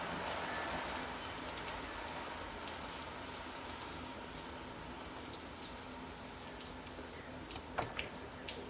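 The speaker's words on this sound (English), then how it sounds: "Wow, it's really coming down, raining outside, which is good." Heavy rain pours steadily outdoors, a dense continuous hiss with a few sharper drips near the end, heard alone without talk.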